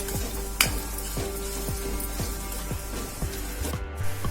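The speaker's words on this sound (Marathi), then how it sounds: "आता आपण यामध्ये लसूण टाकणार आहोत तीन चार पकड्या टाकणार कांदा आणि लसूण थोडा शिजू देऊया" Onion and garlic frying in a pan, a steady close sizzle with a faint low hum beneath and a brief sharp clink early on, continuous and unbroken throughout.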